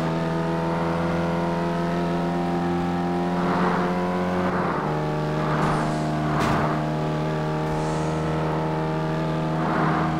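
Race cars in the CarX Highway Racing video game roar with sustained high engine drone, shifting pitch and periodic whooshes of traffic passing by, loud and continuous with no voices.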